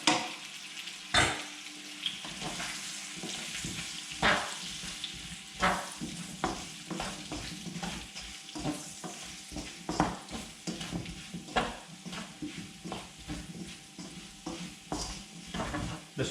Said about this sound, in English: The spices get cooked very quickly because the oil is hot and they get nicely covered over the potatoes